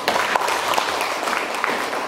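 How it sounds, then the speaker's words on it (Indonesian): Classroom applause rises from students during a high school lesson in Indonesia, a dense burst of clapping that carries steadily for a couple of seconds with no talk over it. "Oke, beri tepuk tangan dulu."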